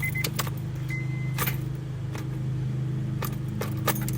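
Keys jangling inside a 1998 Honda CR-V during radiator replacement work, several sharp metallic clinks and rattles in short bursts close by, over a low steady hum from the car's interior.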